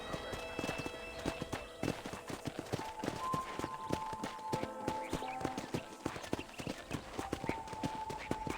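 A horse gallops in the Red Dead Redemption video game, brisk rhythmic clip-clop hoofbeats close and clear throughout, with a faint whinny and light background game sounds.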